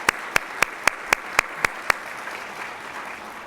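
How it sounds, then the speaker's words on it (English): Award-ceremony audience applauds for recipients; a nearby pair of hands claps sharply in an even, steady beat about eight times over a softer crowd clapping that lingers after the close claps stop. "Please join me one more time for another round of applause for all of today's well-deserving reward recipients."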